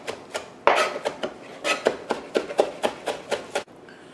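A kitchen knife finely chopping fresh cilantro, stems included, on a cutting board: a steady run of about a dozen crisp, close taps, then a stop, with no talking.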